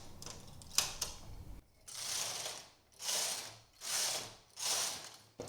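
A knitting machine carriage slides back and forth across the needle bed, knitting rows in four even whooshing, rattling passes after a brief clatter, close and moderately loud.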